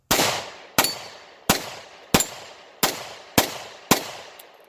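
Seven evenly spaced shots from a Bond Arms Bullpup (Boberg X9s) compact pistol at a shooting range, each a sharp loud crack with a short decaying tail, steady rhythm roughly every two-thirds of a second.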